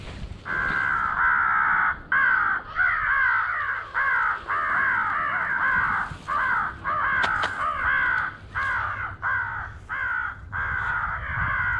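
Outdoors on a crow hunt, crows caw repeatedly in a loud series of harsh calls, some near and some a bit farther off, with short gaps between the bursts and no talking.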